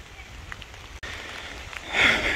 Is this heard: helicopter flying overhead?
no